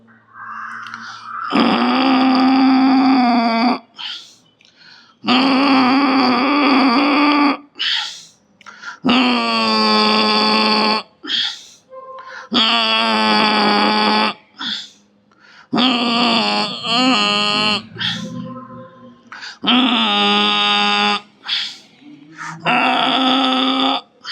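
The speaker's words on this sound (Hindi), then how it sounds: "उज्जाई में आएंगे, यानी छोटे बच्चे के खर्राटे का गला से आवाज निकालेंगे इनहेल के साथ" Ujjayi yoga breathing, a snore-like constricted throat sound on each inhale, repeats in long rasping breaths of about two to three seconds with short pauses between, close and loud, with no talking.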